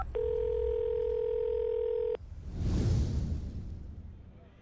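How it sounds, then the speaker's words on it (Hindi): Telephone dial tone hums steadily for about two seconds, then cuts off and gives way to a soft, swelling whoosh that fades out. "गुस्से से कांपते हुए उसने सीधे मेरे बाप को कॉल मिला दी।"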